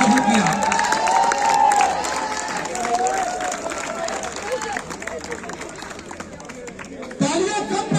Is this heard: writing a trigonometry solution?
no